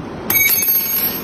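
A gold ring bought in Dubai is tapped once, giving a bright, sharp metallic ping with a thin, ringing high tail that fades over about a second, close and alone.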